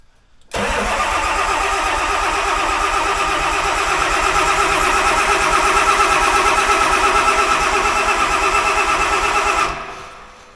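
The engine of a John Deere 850J dozer cranks and catches after a rebuild, a sudden loud mid-pitched roar that holds steady for about nine seconds, close by, then cuts off abruptly.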